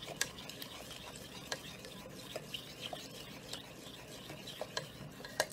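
Sushi rice being stirred in a pot, soft repeated scraping and rubbing strokes with light clinks of the utensil, quiet and close, with no talking.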